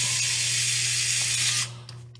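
Small screws are driven into a TRX-4M RC truck transmission with a close, steady whirring buzz that runs for about a second and a half, then cuts off to quiet handling noise.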